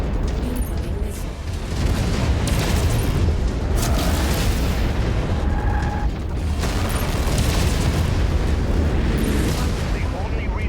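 Missile explosions in the video game Mechwarrior 5: Mercenaries, loud continuous booming and rumbling blasts layered with mechanical battle noise, with a voice speaking over the din.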